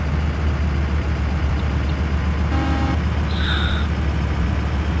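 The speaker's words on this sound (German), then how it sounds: "Ich kann auch hupen!" A truck horn sounds in Euro Truck Simulator, with a short tonal honk and a second higher toot heard over a steady, loud diesel engine drone and road rumble.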